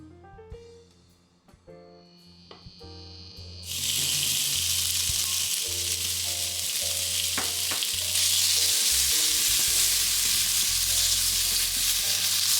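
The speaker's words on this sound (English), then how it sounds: "Put a small amount of oil in a frying pan and fry the pork belly." Pork belly sizzles loudly in a hot, lightly oiled pan, a bright continuous hiss with occasional clinks and scrapes of a utensil.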